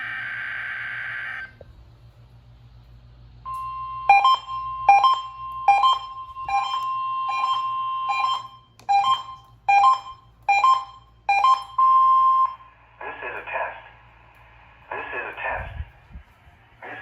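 Required weekly Emergency Alert System test from the National Weather Service: a short data burst, then a steady run of repeated electronic beeps and two-tone attention chirps, loud and isolated, with a brief pause and more tone bursts at the end.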